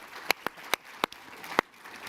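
Sparse applause comes from an audience honouring two former chairs at a political event. Six or so distinct, close hand claps are spaced irregularly over two seconds, thin rather than a full ovation.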